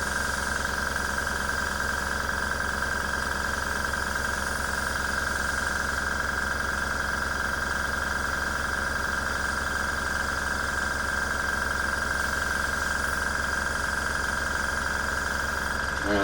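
A budget airbrush compressor runs at lowered pressure, giving a constant, close mechanical hum with a rapid pulsing throb and a steady tonal whine, unchanging and uninterrupted throughout.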